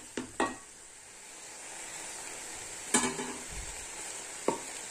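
Greens being stirred in a pan for a simple Kerala-style cheera upperi stir-fry, with a steady soft sizzle and several sharp scraping strokes of a spoon against the pan at irregular intervals, close and alone.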